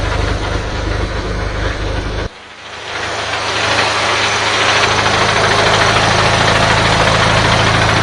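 Modified car engine idling with the clutch released: a loud, steady rumble that briefly drops and softens, then settles back into an even, continuous idle.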